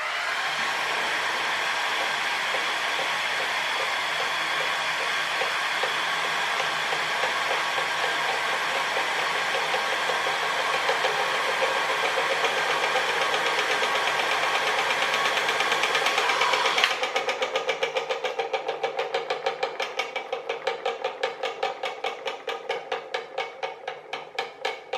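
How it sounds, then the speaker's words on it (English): A hairdryer blowing steadily and loudly to drive a water bottle windmill, a constant close whoosh for about seventeen seconds, then cut off to a quieter, rapidly ticking whir as the windmill spins down. "This hairdryer's got 3 positions on it."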